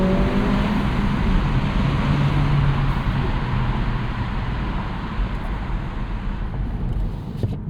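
A 2026 Acura Integra A-Spec with a 1.5 liter turbo engine accelerates on the road, a steady low engine drone blended with road and tire noise, fairly loud and constant.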